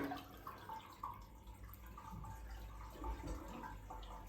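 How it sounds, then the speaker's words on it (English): A toilet flushing with poor plumbing, a low, uneven gurgling rush of water with a few drips and bumps, fairly quiet and heard without talking. "we're gonna flush the toilet"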